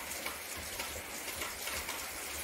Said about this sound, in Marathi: पाऊस मस्त चाललाय जबरदस्त